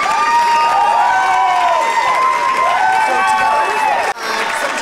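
A crowd at the 2011 Canadian Karaoke Championships cheers, whoops and applauds continuously and loudly as winners are announced, with voices rising and falling in the roar.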